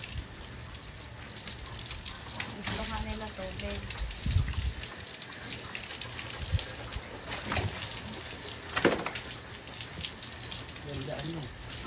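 Water runs and gushes steadily, like a tap or pump, with people talking over it and a few clatters.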